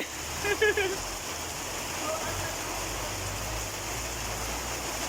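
Dense rain roars on without letup, a constant broad hiss with a brief clatter near the start.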